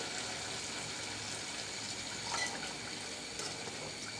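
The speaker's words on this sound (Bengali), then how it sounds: "আমি এবার যতটুকু ঝুলের পরিমাণ পানি দিয়ে দিচ্ছি" Water pours into a cooking pot of chicken and bottle gourd curry, a faint steady splashing stream close by with no talking.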